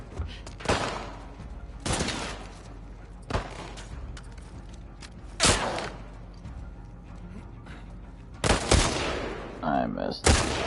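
Loud single gunshots from a hunting rifle in a video game ring out in spaced bursts, roughly six reports over ten seconds, each sharp crack followed by a brief decay, with a rattle of mechanism near the end.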